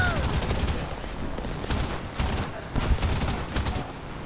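Aircraft gunfire in the War Thunder combat flight game, bursts of rapid machine-gun fire rattling over a steady engine drone, fairly faint, with a voice talking over it.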